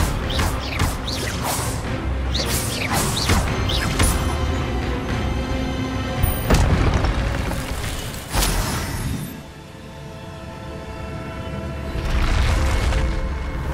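Incendio and Expelliarmus spells cast in Hogwarts Legacy burst out as loud whooshing blasts and crashing impacts, one after another, over a dense layer of game effects, fading briefly before another swell.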